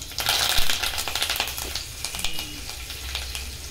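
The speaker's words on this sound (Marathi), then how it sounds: "आता त्याच्यात आपण 10-12 कढीपत्त्याची पानं टाकूया।" Ten to twelve curry leaves drop into hot oil tempering for matar pulav, bursting into a loud crackling sizzle with rapid pops that slowly settle into a steadier fry, close and without talking.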